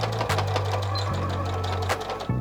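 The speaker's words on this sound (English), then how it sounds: "sew these short ends together" A sewing machine runs in quick steady bursts, stitching the short ends of a quilted zipper bag together with a 3/8-inch seam allowance, loud and close with brief pauses between runs.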